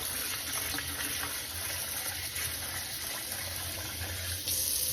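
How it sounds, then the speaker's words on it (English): Sushi rice is rinsed under a running kitchen tap, water gushing and splashing steadily into the bowl or sink at close range with a constant, full rush. "Just keep rinsing until this water comes out perfectly clear."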